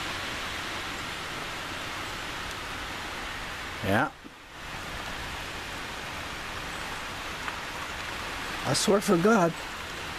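Storm wind roars steadily through treetops as a broad, constant rushing noise. A sharp gust or knock stands out near the middle, and a person speaks briefly toward the end.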